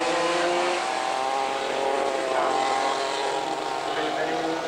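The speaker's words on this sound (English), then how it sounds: "And they start to fire the supercars up." Supercar race engines firing up and running at a dirt kart track, a dense, steady roar of several motors with droning harmonics, loud throughout and overlapping with faint background voices.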